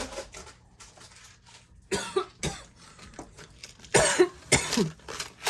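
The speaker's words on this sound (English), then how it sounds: "That cough was serious." Several sharp, harsh coughs burst out close by, with quieter rustling and small movements in the pauses between them.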